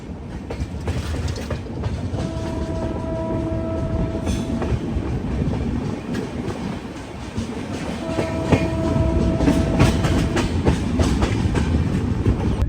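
The Pune Kanyakumari Express, run by Southern Railway, rumbles steadily along the rails in Tamil Nadu, heard from inside with a loud continuous roll and clatter, and two long horn blasts sound during the run.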